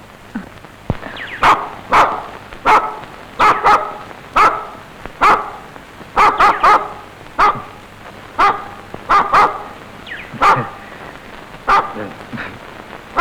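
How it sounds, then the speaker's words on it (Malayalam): A dog barks repeatedly, loud and close, in short sharp bursts at irregular intervals, with rain pattering softly in the background. "പട്ടി"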